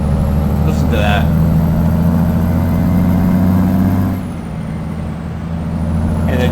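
A Peterbilt truck in American Truck Simulator drones along with a loud, steady low engine rumble. It is cut briefly near the end and then resumes. Someone talks over it.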